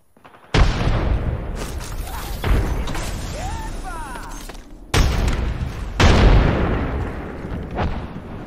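Frag grenade blasts in the shooter game Apex Legends: several loud, sharp booms, each with a rumbling decay. Gunfire and a player's voice sound between the blasts.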